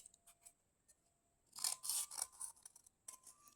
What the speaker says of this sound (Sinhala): මම ඔයාලට කපලා පෙන්නන්නම් මේක කොලෙන්.